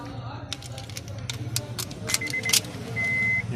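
Honda car keys jangling during a repair, a series of brief metallic clinks and rattles near the ignition switch, followed by a short electronic beep, over a low hum.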